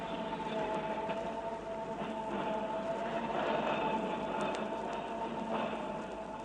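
Tram cars rumble along a busy Hong Kong street alongside cars and rickshaws, a steady rolling roar with faint ringing tones throughout, loud and close with no voices.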